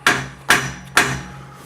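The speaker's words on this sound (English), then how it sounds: "Again, a rubber mallet, dead blow hammer. Just going to tap right here." A rubber dead blow mallet taps a safety handrail three times at an even pace, each blow a close, dull thump with a short decay and no voices.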